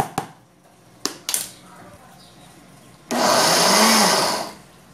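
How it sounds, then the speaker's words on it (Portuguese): A few sharp knocks, then a loud blender whirs steadily for under two seconds, grinding dry soap into powder before cutting off. "Agora vamos bater no liquidificador para ele virar pó."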